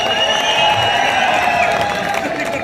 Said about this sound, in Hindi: ताली के साथ साथ एक बार सीटी भी संजीव बालियान जी के बजा दीजिए।